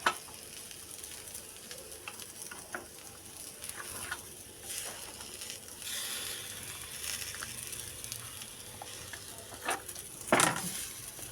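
Whole spices frying in a pan over a low flame for a village-style katt saaru: a soft, steady sizzle with light stirring scrapes and a few louder crackles near the end, with no talking.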